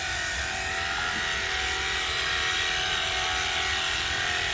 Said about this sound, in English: Battery operated pressure washer.